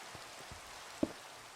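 Rain falls in Minecraft as a faint, steady patter, with a few soft scattered drop hits and one slightly louder tap.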